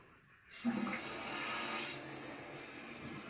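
After a toilet flapper replacement, water rushes into the toilet tank and keeps refilling in a steady, moderate flow.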